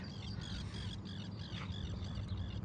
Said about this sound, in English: I don't know if you can hear the noise of the seagulls playing with each other